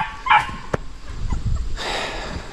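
Dogs on a 10-acre rural property where a large family lives in a camper give a few short barks and yips, fairly close and loud, with scuffling between them and no talking.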